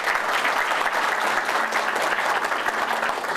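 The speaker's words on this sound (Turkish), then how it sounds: "Evet, bir alkış da onlara yapalım." Steady, dense audience applause at an indoor gathering fills the whole stretch, loud and continuous with no pauses and little talk.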